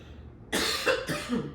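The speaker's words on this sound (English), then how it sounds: "Excuse my coughing today." A person coughing during a yoga breathing session, two or three dry, close coughs in quick succession after a quiet moment.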